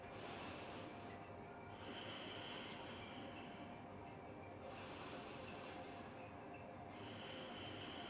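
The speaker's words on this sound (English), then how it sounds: "Take 3 deep breaths." Deep breathing during a seated yoga twist stretch at home, slow audible inhale and exhale cycles rising and falling as soft airy hisses close to the microphone, with no talking.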